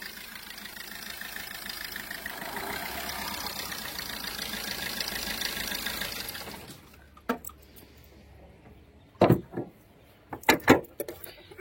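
A 2014 Maruti Suzuki Ertiga VDI diesel idles with a steady, even hum for several seconds before the engine shuts off, followed by a few sharp, scattered knocks and clicks nearby.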